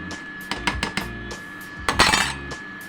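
Half a kilo of rice being stirred in a pot for coconut milk biryani brings a few sharp metallic clinks and knocks of a spoon against the pot, in two short bursts with a quiet gap between.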